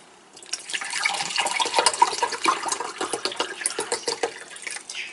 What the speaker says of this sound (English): It's okay if you rinse it out with tap water